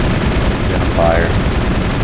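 Gunfire against turrets in the game Mass Effect, a dense burst of shots and impacts that stays loud throughout, with a brief electronic tone rising partway through.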